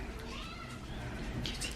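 A cat meows amid a busy indoor scene where Pokemon Surging Sparks card packs are being unboxed, the calls fairly faint and blended with background noise.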